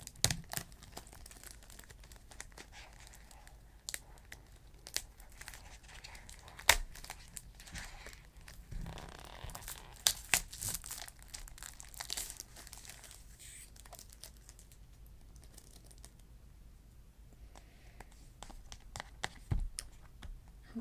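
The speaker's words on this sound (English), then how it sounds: "open up our cards here. Now, I've never played with these cards. Obviously, I'm opening them for the first time." A brand-new pack of playing cards is opened up close, with crinkling wrapper, tearing and small crisp snaps and taps over about twenty seconds, quiet and intimate.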